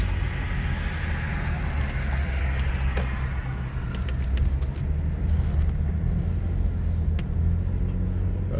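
A car drives slowly up through Mountain Home Cemetery in Kalamazoo toward an old grave, its steady low engine rumble and road noise continuous and close throughout, with faint light clicks scattered over the top.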